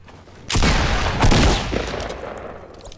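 Shotgun blasts in Fortnite on Xbox ring out as a loud burst of two heavy overlapping shots about a second apart, with a crackling tail that fades slowly.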